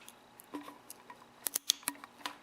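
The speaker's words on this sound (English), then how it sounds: "I'm just going to snip it nice and straight." Scissors or cutters snip through a firm fuel line pulled from a fuel tank, giving a few sharp, close crisp clicks in quick succession against a quiet background.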